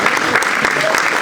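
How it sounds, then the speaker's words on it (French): Short burst of dense applause from an audience honoring a priest, steady and fairly loud throughout with a hint of voices mixed in. "On pourrait peut-être l'applaudir."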